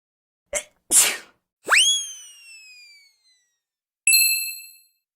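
Cartoon sneeze from a Teenieping character that blows another character far away, rendered as sound effects: two short sharp bursts, then a rising springy twang that rings and trails off, followed after a pause by a bright ringing ding.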